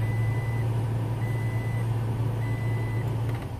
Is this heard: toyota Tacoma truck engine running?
yes